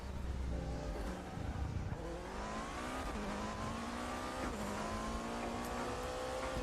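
A GT3 race car in the RaceRoom racing video game, its engine note climbing and dropping through gear changes in a steady, loud drone with no pauses.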